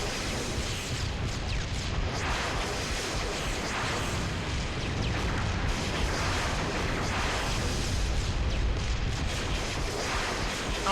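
Turret being blown up in a military video game, a steady dense roar of blasts and heavy rumbling fire running continuously for the whole stretch, loud and unbroken with no voices.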